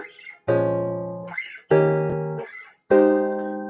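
Guitar chord in root position strummed three times, each ringing out and decaying before the next, clear and close with no talk.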